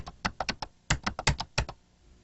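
A file name is typed on a computer keyboard in a burst of crisp, close keystrokes, two quick runs of clicks with a brief pause between them, then quiet.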